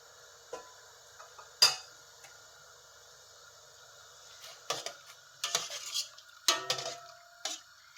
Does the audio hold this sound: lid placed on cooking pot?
yes